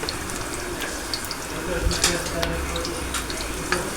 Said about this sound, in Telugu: కొంచెంసేపు వేయించుకోవాలన్నమాట.